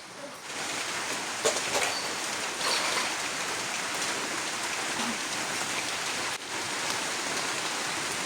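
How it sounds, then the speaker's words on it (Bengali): Steady heavy rain falls in a rural village, a dense, even hiss that holds throughout with no break and no talk over it. "বৃষ্টি ছাড়ার কোনো লক্ষণ নাই"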